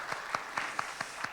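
A church congregation claps during a Sunday Advent worship service, sounding as six evenly spaced, fairly soft claps in a steady rhythm, with no talking over them.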